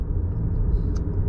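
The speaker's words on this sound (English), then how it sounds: "right now I'm driving in sports mode" A 2020 Honda Accord Hybrid driving in sport mode, with a steady low engine and road rumble filling the cabin, continuous and fairly loud with no talk.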